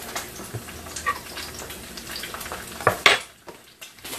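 A utensil scrapes and clinks against a pan while eggs cook, with soft frying hiss underneath and a sharper clatter near the end.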